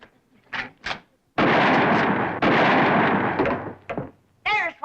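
Two rifle shots fired at a telephone wire in an old TV comedy: a pair of loud, sharp blasts in quick succession with brief echoing tails, set among short bursts of dialogue before and after.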